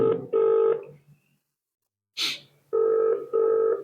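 A telephone ringback tone plays while calling a roads and buildings officer in Bhadrachalam: paired beeping pulses, a pause, a short burst of noise, then two more pulses, clear and close.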